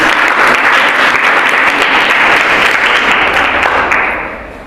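A girls' college classroom breaks into loud, dense applause from many hands clapping together, sustained and then fading out at the end.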